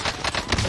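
Rapid automatic gunfire in an online video game, a burst of sharp shots packed into under a second, loud and close, with no talk over it.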